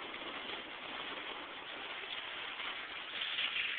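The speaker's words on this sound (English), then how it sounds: "If you can hear that rain, it's loud." Heavy rain drumming on a Ford Ranger truck, heard from inside the cab as a steady, dense hiss of patter that swells slightly near the end, alone without talk.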